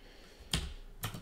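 Typing on a computer keyboard while coding in Emacs, two distinct crisp keystroke clacks about half a second apart, close and moderately loud, with no voices.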